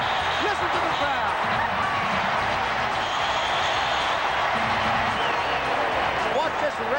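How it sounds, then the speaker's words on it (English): A baseball stadium crowd roars after the game-ending strikeout in a Cubs at Pirates game, a steady wash of cheering and clapping heard at a distance under a broadcaster's voice. "Listen to the crowd."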